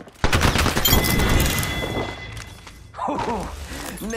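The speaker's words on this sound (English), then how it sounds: "Enemies are shooting at me." Rapid gunfire bursts in a shooter video game open with a sharp crack and rattle on, then give way to quieter game sounds and someone speaking.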